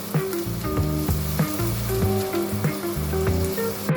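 Turmeric and chili powder sizzle and fry steadily in oil in a pan while the masala for egg bajji cooks, with a continuous close crackle and faint stirring scrapes and no talking.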